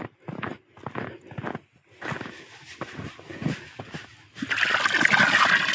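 Water runs from a tap into buckets at a horse barn in winter. Footsteps crunch first, then a steady, loud gushing splash takes over near the end.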